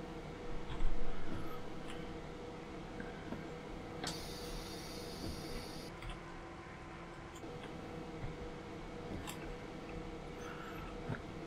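A BR155 electric locomotive in Train Simulator on the Cologne–Koblenz line reverses toward platform 1 at Andernach, giving a steady low rumble and hum with faint clicks and a brief high tonal whine partway through.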